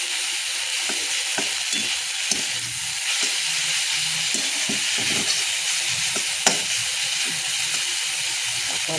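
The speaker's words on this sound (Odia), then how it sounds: "ଶାଗ ଭଜା ପିଆଜ ପକାଇ ମେଥି ଶାଗ, ଆଜି ଆଉ ରସୁଣ ପକାଇନି, ଖାଲି ପିଆଜ ପକାଇ ଦେଇଛି।" Fenugreek greens (methi saag) fry with chopped onion and no garlic in a pan, giving a steady close sizzle with scattered scrapes and clicks as the greens are stirred throughout.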